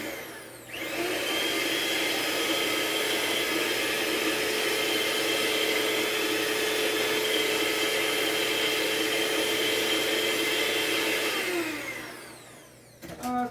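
A hand blender whisks lemon blueberry bread batter with a steady, close whirring drone that starts abruptly and runs uninterrupted for about eleven seconds before winding down.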